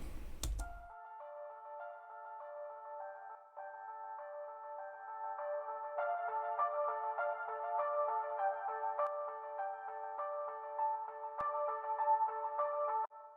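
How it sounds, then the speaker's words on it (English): A piano treated with a chorusing effect for stereo width plays sustained chords and melodic notes, soft and steady and alone, after a brief burst of noise at the very start. "I used it on the piano to create more of a chorusing effect to give the piano more width."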